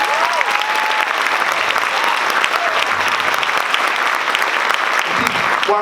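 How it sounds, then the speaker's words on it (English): An audience at a high school jazz ensemble concert breaks into loud, sustained applause that continues without pause, with scattered cheers and whistles over the clapping. "How about a round of applause for that?"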